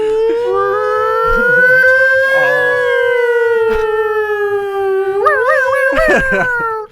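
A person's voice imitates a long, wavering howl like an old police siren, a sustained rising and falling wail that holds for several seconds before breaking off.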